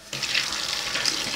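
Hot tap water runs steadily from a faucet into a sink filled with soapy water for washing mechanical keyboard parts, a continuous close splashing hiss with no voices.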